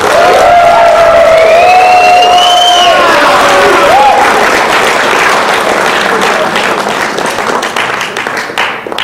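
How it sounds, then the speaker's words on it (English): At a school fall sports awards night, the audience gives a loud, hearty round of applause for the coach, punctuated by high whistles and whoops early on, the clapping thinning slightly as it fades. "he deserves a big round of applause"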